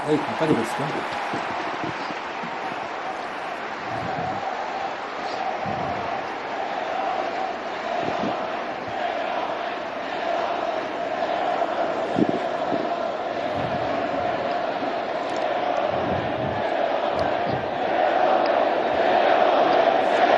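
A vast open-air crowd greets the new Pope Leo XIV with sustained applause and cheering, a distant, steady roar with scattered louder claps and shouts rising and falling over twenty seconds.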